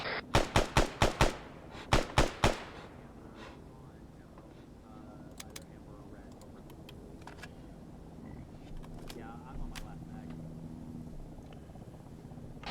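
Machine gun fire in the video game Arma comes in two loud rapid bursts in the first seconds, then gives way to a quieter rumbling battlefield ambience with a few faint distant shots.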